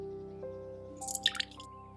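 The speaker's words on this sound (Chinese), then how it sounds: "将70克的蛋液倒入搅拌缸" Beaten egg poured into a stand mixer's mixing bowl while making cloverleaf bread rolls, a brief soft wet splash and drip over a steady low hum.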